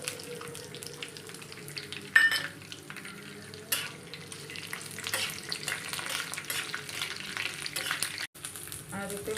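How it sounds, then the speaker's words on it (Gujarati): Green chilies, peanuts and garlic fry in hot oil for a peanut chutney, giving a continuous nearby sizzle broken by spoon scrapes and pan knocks. "તેલ ગરમ થઈ ગયું છે। લસણ પણ નાખી દઈશું, બધું સાથે જ નાખીને શેકી દઈશું।"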